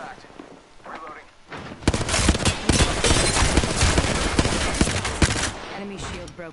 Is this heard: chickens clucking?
no